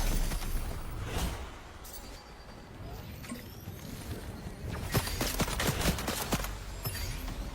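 Rapid bursts of gunfire in a Fortnite battle royale match, crackling fusillades close and loud, with a short lull in the middle before heavier volleys return.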